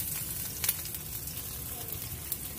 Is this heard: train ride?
no